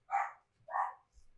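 A dog gives two sharp barks, about half a second apart, close by and alone, with a faint low thump after them.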